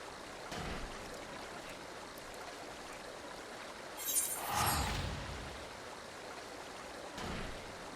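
Water sloshing and splashing as characters wade waist-deep in Final Fantasy XIV, a steady flowing wash with a louder surge midway and a few soft splashes, no talk.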